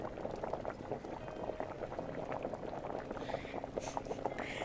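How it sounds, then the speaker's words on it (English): A pot bubbles continuously in a cozy kitchen cooking video game, a soft, dense, steady boil with no pauses, heard faintly in the background. "Can you all actually hear the bubbling that's going on in the background?"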